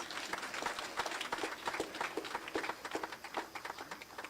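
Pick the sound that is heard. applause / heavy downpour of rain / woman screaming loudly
applause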